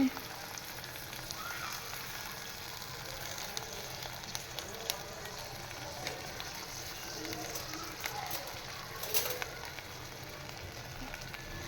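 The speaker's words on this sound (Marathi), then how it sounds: "कॉर्न बॉईल केलेले आहेत, तरी पण कॉर्न छान बटरमध्ये फ्राय केले की सुंदर लागतात ते" Boiled corn frying in butter in a pan over low heat, a steady soft sizzle with scattered small crackles and pops, close but faint.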